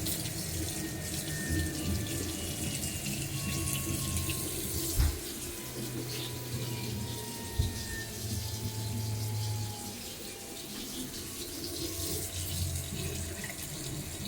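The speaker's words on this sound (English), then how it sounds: "the tap water is working fine" Hot water runs steadily from a kitchen tap for the whole stretch, a constant broadband rush with faint clicks and a brief low hum partway through.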